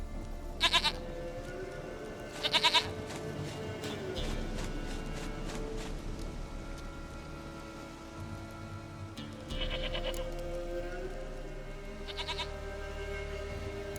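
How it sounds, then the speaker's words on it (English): Goat bleats from The Witcher 3: Wild Hunt, a few short nasal cries repeating at intervals over a steady game ambience with background music. "Goat of mine, dearest, sweetest goat."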